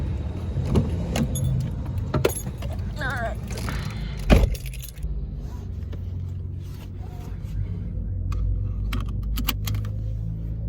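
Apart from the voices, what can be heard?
keys jangling while unlocking and getting into car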